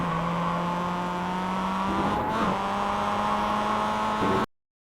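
A Mazda MX-5 in iRacing accelerates out of a corner, its engine a steady droning hum that holds at a constant, close level for about four and a half seconds, with a brief change in tone partway through before it cuts off.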